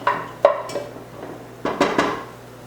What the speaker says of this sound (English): So you just want to stir this around for just about 30 seconds to kind of get a little bit of color on the garlic as well.